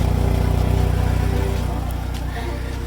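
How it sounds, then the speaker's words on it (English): A 2G DSM car idles after an exhaust repair, its engine giving a steady, low, close-up rumble with an even pulse that carries through the whole stretch. "The only noise that I'm hearing now is coming from right up front here by the where I put my exhaust clamps on"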